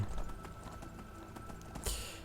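Horse hooves in Skyrim clip-clop in a steady, quick rhythm of close, moderately loud strikes over light ambient hum, followed near the end by a brief bright swoosh.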